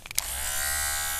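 Electric hair clippers buzz steadily at close range with a bright, even hum, after a few brief clicks as they switch on; no one speaks.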